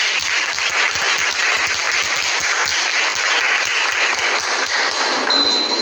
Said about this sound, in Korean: 다시 한번 박수로 맞이해주십시오.